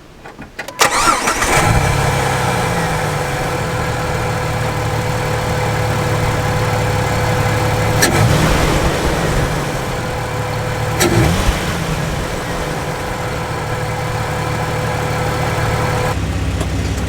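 A Jeep TJ with the 4.0 engine, Flowmaster exhaust and aFe intake cranks and catches, then settles into a loud, steady idle punctuated by two short revs, close and alone without talk.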